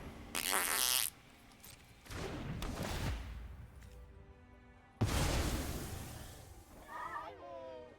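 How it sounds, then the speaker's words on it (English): Comic fart sound effect triggered by a card in the Magic Arena video game: a short loud burst at the start, then rough sputtering noise, with a second longer raspy blast that trails off into a squeaky, tonal tail. "That sound effect, chat, was because this card is farts."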